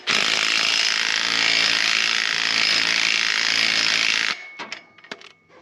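Ratchet wrench working on rusty exhaust bolts of an old John Deere JD70 excavator, a dense continuous mechanical clatter lasting about four seconds, close and loud, then a few short scattered clicks and knocks.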